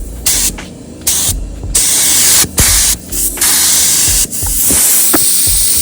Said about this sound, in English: I have a leak right now on the air hose,